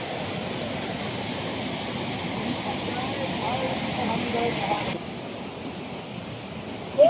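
Rushing stream water at the Mahendragiri hills, running high after rain, forms a steady broadband wash close by, with voices talking over it and the level dropping slightly near the end.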